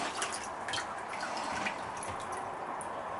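Acid being poured through a filter and dripping into a jug during gold recovery from computer RAM sticks, a faint, steady trickle with light irregular drips and splashes throughout.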